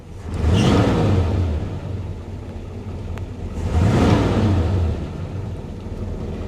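A 1957 Chevy Bel Air engine cranks and fires in two loud surges a few seconds apart, then settles into a low, rumbling idle heard up close, with no talking.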